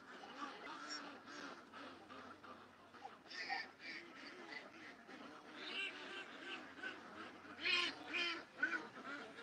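Ducks on the water at a home pond, one of them white, giving scattered quacks and soft chatter at middle distance over steady outdoor background, with a louder burst of calls near the end.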